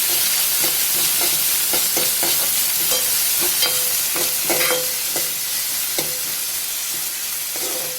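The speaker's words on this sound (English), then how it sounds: "And mix it again" A spatula stirs cauliflower fry in a pan with onions in a steady series of scrapes and taps over a constant bright sizzle, close and fairly loud, with no one talking.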